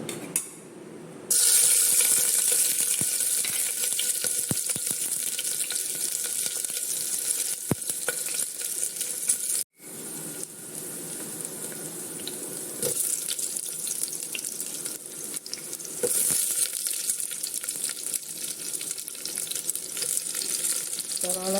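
Ginger, garlic and crushed green chili frying in coconut oil, giving a steady loud sizzle that runs nearly continuously, with one brief drop out midway.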